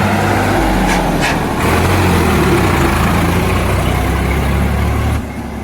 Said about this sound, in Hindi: आ गया भाई ट्रैक्टर और दोनों में रेस हो गया भाई